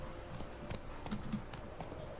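A horse gallops at full speed in The Witcher 3 video game, rapid rhythmic hoofbeats under a dense continuous game soundscape, steady and fairly loud throughout.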